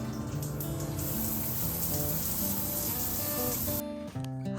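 A shower runs steadily in a campground shower room in New Zealand, a continuous close hiss of spraying water with faint tonal pipe hum beneath.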